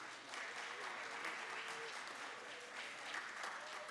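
A school fine arts festival audience applauds a student poem winner, a steady wash of clapping at moderate distance that lasts throughout, with faint crowd murmur beneath.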